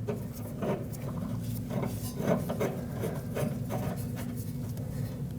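Soft repeated metallic rasping and rubbing as a new inner tie rod is threaded by hand into the steering rack of a 2020s Toyota Corolla, quiet and close, with faint irregular scrapes over a low steady hum.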